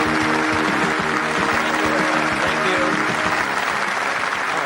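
An audience breaks into sustained, dense applause welcoming speaker Jim Rohn, with many hands clapping steadily at a constant level for several seconds.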